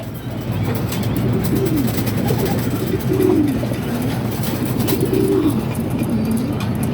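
Pigeons cooing at a loft in Pagbilao, Quezon, as a racing pigeon arrives, repeated low rolling coos over a constant background hum, with no talking.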